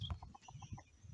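A chicken of a breed that lays colored eggs clucks in a quick run of short, evenly spaced notes, close by and moderately loud, with a low rumble underneath.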